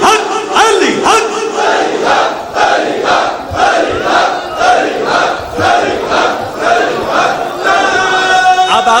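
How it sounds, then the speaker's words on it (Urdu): A large religious gathering at a shrine chants "Ali Haq" in loud, rhythmic unison, the massed voices rising and falling in repeated bursts, with a sustained tonal shout near the end. "ہاتھ بلند کر کے بولو علی حق علی حق علی حق"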